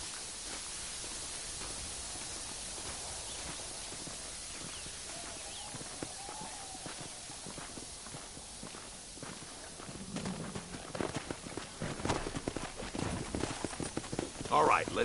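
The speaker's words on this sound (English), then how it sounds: "Come on, horses are over here." Steady hoofbeats of horses in the video game Red Dead Redemption clip-clop along at a walking pace under a faint background hiss, growing louder and busier toward the end.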